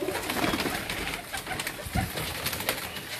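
Breeder pigeons cooing in a loft, soft low murmuring coos repeating over steady background noise, fairly close with no talking.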